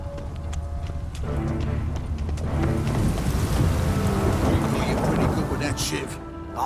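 Rain and rolling thunder in the city of Novigrad in The Witcher 3 video game: a steady, loud wash of rainfall with low rumbling beneath, while people talk over it.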